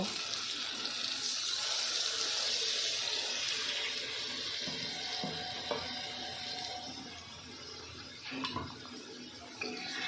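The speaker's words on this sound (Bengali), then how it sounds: "এবার একটু উষ্ণ গরম জল দিয়ে দেব।" Warm water pours into a pot of cooking prawns with a steady splashing rush, close and continuous, fading slightly toward the end, with no talking.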